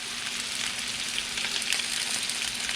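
Bacon-wrapped hot dogs fry on a street cart grill, giving off a steady, even hiss and crackle of sizzling fat that carries on without a break and without voices for a few seconds.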